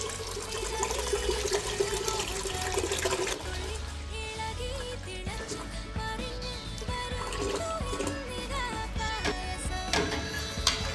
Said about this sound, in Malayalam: അപ്പോൾ നമ്മൾ ഈ 4 ലിറ്റർ പാല് ഇതിലേക്ക് ഒഴിച്ചിട്ട്